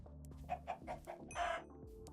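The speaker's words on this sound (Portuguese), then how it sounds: "Aqui é o lugar das galinhas" Minecraft chickens cluck in the game, a few short clucks in quick succession followed by a slightly longer one, clear and fairly close with no talking over them.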